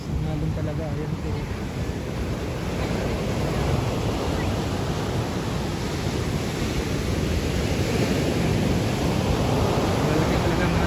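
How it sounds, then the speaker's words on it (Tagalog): Strong ocean waves crash and surge continuously on a beach, a dense, loud roar of surf with wind rushing across the microphone throughout. "Ang lakas ng alon talaga."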